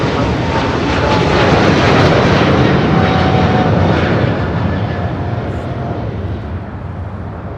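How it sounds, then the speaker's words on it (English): Korean Air Cargo Boeing 777 freighter taking off from LAX, a loud close jet engine roar that builds and then gradually fades as the aircraft climbs away. "This is Korean Air Cargo 274 taking off to Seoul on a 777 freighter."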